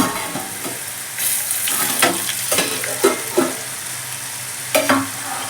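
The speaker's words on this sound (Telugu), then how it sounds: "చక్క ఫ్రై అయిపోయినాయండి వావ్ క్రిస్పీగా అయిపోయినాయి" Khan pieces frying crisp in hot oil, a dense continuous sizzle with repeated stirring scrapes and clatters against the pan, close and loud, no voices.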